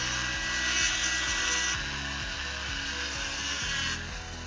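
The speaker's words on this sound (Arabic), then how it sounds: "بعد كده هبدأ ان انا احفر بشكل اعمق شوية." A rotary power tool engraves deeper into metal for a handmade earring, producing a steady, loud, high whine with a faint rhythmic pulsing throughout and no voices.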